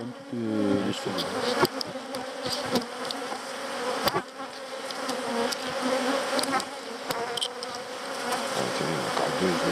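Dense honeybee buzzing at an opened hive frame, a loud, continuous drone close by with individual bees zipping past and faint clicks and handling noises.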